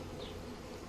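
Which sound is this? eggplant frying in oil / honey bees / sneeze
honey bees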